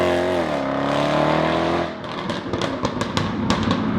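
A 2017 Jaguar F-Type SVR supercharged V8 revs loud and close, pitch climbing, then cuts to a rapid series of sharp crackles and pops from the exhaust.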